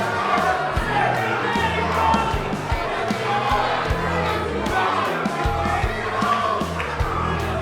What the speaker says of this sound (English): Cute little crowd we got here.